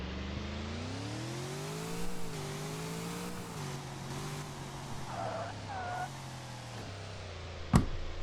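A car engine in the Land Lark video game hums and revs with rising and falling pitch, accompanied by brief tire squeals, ending in a sharp click.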